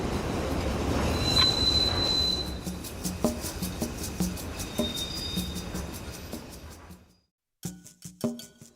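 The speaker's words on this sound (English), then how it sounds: "The Brown Line heads north from the Loop on elevated tracks." A Chicago Brown Line elevated train rumbles and squeals along the tracks with rhythmic clacking wheels and a high metallic whine, fading briefly before more clatter.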